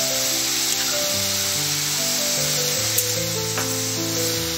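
Spring roll vegetable filling is stirred in a hot pan with soy sauce, sizzling steadily and loudly for the whole stretch, with a few scrapes of the spoon against the pan and a continuous low hum underneath.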